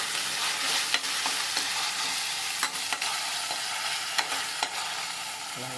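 Ginger paste fries in a pan with a steady, bright sizzle while a spoon scrapes and stirs it, giving a few distinct clinks and scrapes over the continuous hiss.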